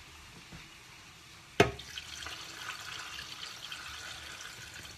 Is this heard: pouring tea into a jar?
yes